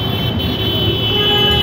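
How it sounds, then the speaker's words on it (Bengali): Busy four-way road intersection in Dhaka: a steady, close wash of car and truck engines with thin horn toots sounding through the traffic drone, with no break. "আমি এখন একটি চার রাস্তা মোড় পার হচ্ছি।"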